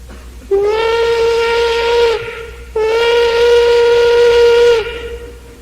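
A voice imitates an old steam locomotive whistle: two long, steady, harmonic-rich hoots, each about one and a half seconds, loud and close with a slight pitch bend.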